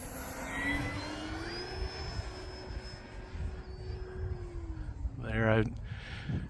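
An E-flite Focke-Wulf Fw 190A 1.5m RC model airplane flying on its maiden flight, its steady engine whine drifting in pitch as it passes overhead, heard continuously under wind noise with a short sharp burst near the end.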